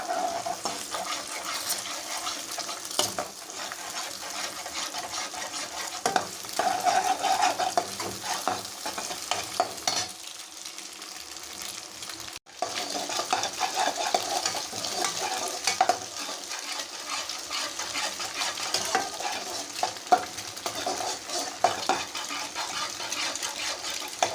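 Eggs being stir-fried for beef fried rice, a steady sizzle under repeated scraping and stirring strokes, close and fairly loud, with a brief drop to quiet midway before the frying resumes.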